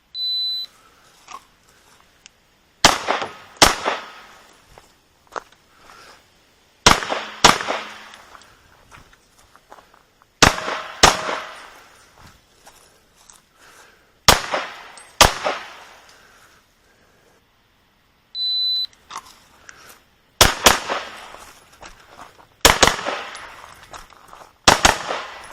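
Pistol and rifle shots in a 3-gun drill strike a series of targets from behind a barrel, sharp loud cracks in tight pairs and singles with pauses between strings, ringing over a quiet outdoor range.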